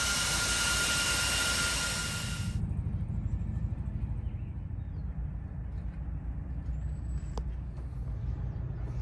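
Love Jugs Mighty Mites air horns mounted on a Sportster blast loud and steady for about two and a half seconds, then cut off abruptly, leaving a low idling rumble underneath.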